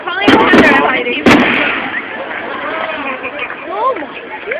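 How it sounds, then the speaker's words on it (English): Large fireworks explode on a foggy, windy night: three sharp, loud bursts come in quick succession early on, followed by crackling and whistling tails while people talk excitedly nearby. "This is a big fireworks. It's fireworks all the way here too."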